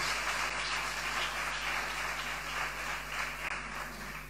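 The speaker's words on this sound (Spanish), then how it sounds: "Le puede dar un aplauso a Dios por eso" A church congregation applauds, a dense, steady wash of many hands clapping at a moderate distance that keeps up evenly throughout, with no talk.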